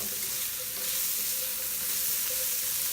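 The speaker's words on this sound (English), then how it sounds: "stir these vegetables" Vegetables sizzle and fry in a hot pan while being stirred, a steady close crackling hiss that carries on without a break and with no talking over it.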